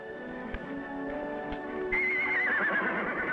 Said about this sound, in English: I do believe that horse whinnies with a Southern drawl.